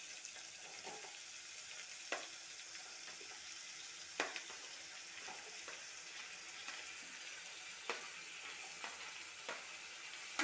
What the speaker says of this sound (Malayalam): ഇതൊന്ന് പതുക്കെ ഒന്ന് എണ്ണയിൽ വഴറ്റിയെടുക്കാം.